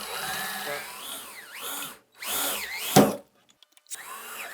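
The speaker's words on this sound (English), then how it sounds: "there's two rivets that we're just going to drill out" A power drill bores out rivets on a car's vent window bracket, its whine rising and falling in repeated sweeps with pauses between passes, close and loud, ending with a sharp bite and brief clicks.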